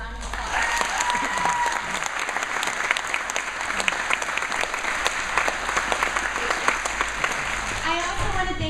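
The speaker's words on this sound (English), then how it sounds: "we can give them a quick round of applause" Audience applause following thanks to event helpers, steady dense clapping from a crowd throughout, with whoops and other vocal sounds mixed in.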